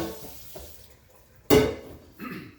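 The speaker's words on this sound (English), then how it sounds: "I'm just going to pour boiling water straight down the drain." Boiling water is poured straight down a kitchen sink drain with plastic pipes. A short, sudden gush of splashing water stands out midway through an otherwise quiet stretch with faint clatter.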